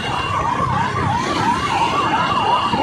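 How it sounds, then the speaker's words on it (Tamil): An ambulance siren wails in a steady rising-and-falling cycle as it passes on a city road in Bangalore, fairly loud over traffic rumble, with no talk. "என்ன சொல்லும் போது வந்து ஆம்புலன்ஸ் அவ்வளோ கேட்குது"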